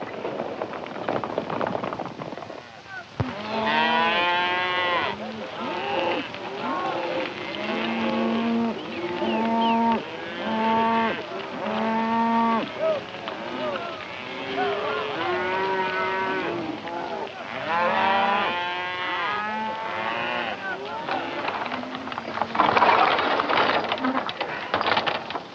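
Repeated loud mooing from several cattle, overlapping calls one after another across a long stretch, with quieter gaps between bursts.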